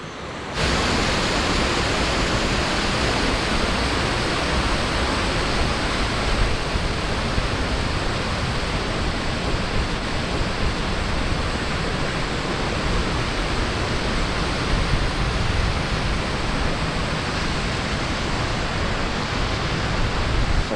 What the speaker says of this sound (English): Nice little babbling brook kind of